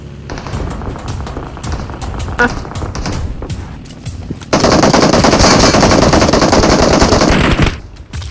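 Sustained automatic gunfire from PUBG Mobile, scattered shots at first, then a loud dense burst of rapid fire lasting several seconds before cutting off.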